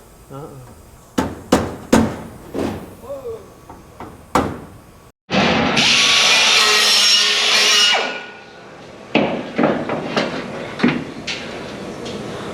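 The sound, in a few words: working on and trimming the floor panel of a 1967 Camaro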